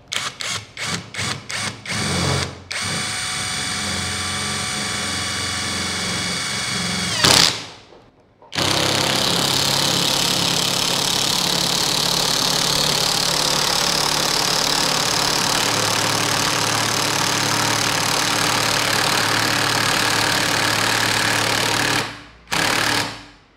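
An Ingco CIRLI2002 cordless impact driver runs hard, driving a screw as a sustained, loud, rattling hammering that lasts for long stretches, broken by brief gaps and a few quick trigger bursts at the start.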